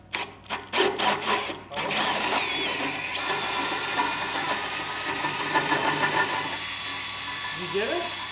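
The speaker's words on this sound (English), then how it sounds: "I'm just gonna ream it." A reamer works a hole in a banana project, starting with a few sharp knocks, then a continuous grinding, rubbing whir that runs steadily close by; speech is faintly present.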